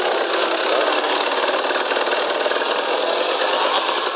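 KTM EXC 300 motorcycle engine running steadily, a constant raspy buzzing drone with fast pulsing rhythm, loud and close without talk.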